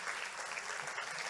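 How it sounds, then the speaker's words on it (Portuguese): A church audience gives a short burst of steady applause, a soft, even wash of clapping with no voices over it. "Receba os aplausos da plateia"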